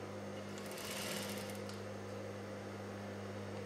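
A sewing machine stitches piping onto a katori blouse, running steadily at close range with a constant motor hum and a brief burst of faster stitching near the start, no voices.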